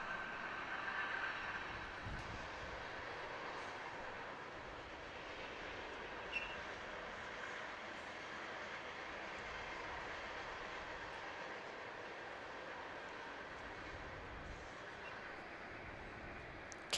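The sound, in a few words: train rolling by near softball field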